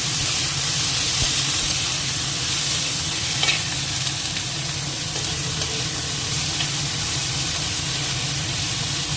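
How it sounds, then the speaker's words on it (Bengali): Okra frying in oil in a kadai gives a steady, close, loud sizzle that never lets up, with a brief clatter of stirring partway through. "তো এবার এই ভেন্ডিটুকু ভেজে নিই,"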